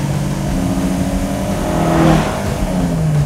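A Toyota AE86 engine with stock exhaust drones loudly from inside the car, the pitch climbing and falling as it revs on a long desert drive.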